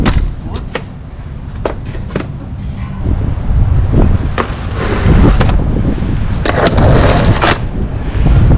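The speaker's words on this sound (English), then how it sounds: "whoa, it's windy" Gusty wind on a flower farm in February buffets the microphone in a loud, continuous rumble, with occasional thumps and clatter throughout.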